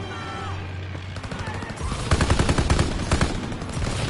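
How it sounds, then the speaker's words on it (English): Bursts of BAR automatic rifle fire in a WW2 video game, loud rapid volleys kicking in midway and repeating in close, heavy clusters after a quieter opening. "God, the BAR has some decent recoil."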